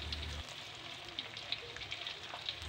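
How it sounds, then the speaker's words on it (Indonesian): Tofu frying in a pan, a steady soft sizzle with scattered faint pops and crackles, heard alone without talk. "saya goreng tahu untuk nambahin lauk untuk kita makan di sore ini ya"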